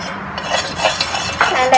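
Masala popcorn mixture stirred in a pan, a spoon scraping and clinking against the metal in quick strokes over a light sizzle, close and fairly loud.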